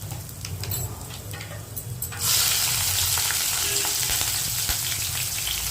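Cumin, mustard seeds and green chilli fry in hot oil for a street-style vada pav filling. The sizzle is steady, and around the two-second mark it jumps to a louder, fuller crackle that holds to the end with no voices.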